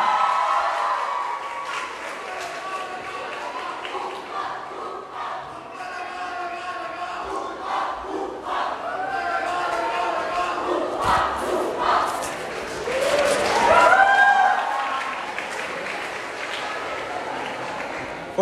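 An enthusiastic crowd at a college festival orientation (Malhar 2022) cheers, shouts and claps continuously, with the noise swelling louder near the end.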